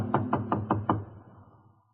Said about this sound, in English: In less than an hour, I was pounding on her door.